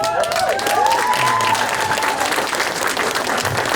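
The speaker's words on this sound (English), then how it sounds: "She clapped for that. She did clap for that." Audience at a stand-up comedy show breaks into sustained applause, a dense, steady wash of clapping throughout, with a few whoops rising above it.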